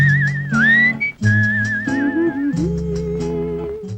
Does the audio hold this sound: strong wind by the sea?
no